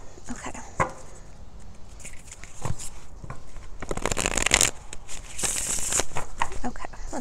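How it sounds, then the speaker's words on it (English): A deck of cards is shuffled outdoors in the wind, giving quick riffling bursts and crisp flutters close by, with some soft rustling and brief handling noises between them. "One more shuffle."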